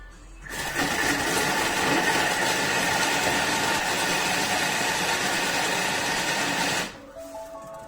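A Thermomix food processor mixing a nugget mixture runs at speed 6 for about six seconds, a loud, steady whirring motor that starts abruptly and cuts off cleanly.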